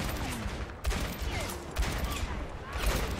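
Gunfire from Ashe's rifle in the video game Overwatch, with several sharp shots landing in quick bursts about a second apart over a busy background of game noise and faint talk.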